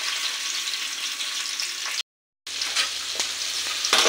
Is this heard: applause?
no